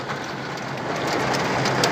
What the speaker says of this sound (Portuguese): Tá chovendo aqui, tá caindo pedra de gelo